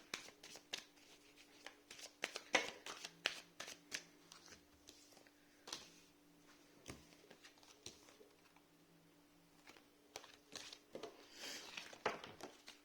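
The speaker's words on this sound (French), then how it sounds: "une carte supplémentaire pour mes Gémeaux" Tarot cards are shuffled and drawn by hand in a quiet room, a series of soft crisp riffles and flicks with sharp snaps in uneven bursts and short pauses between them.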